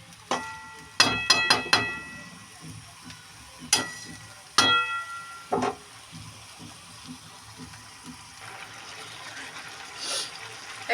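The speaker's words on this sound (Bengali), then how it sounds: "এবার ভালো করে কিন্তু কষাতে হবে" Duck meat is stir-fried with spices in a pan, heard as a low simmering sizzle broken by sharp metallic clinks and scrapes of the spatula in irregular bursts, fairly close.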